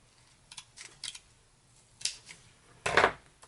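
Scissors snip through a belt harness strap about a quarter inch wide, a few short close crisp cuts in quiet, ending with one louder, longer slice.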